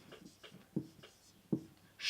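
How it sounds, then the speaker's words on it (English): Handwriting a word, probably with a pen on paper: quiet, close scratching strokes with a few sharper taps, ending in a brief louder rustle. "Let's write it down."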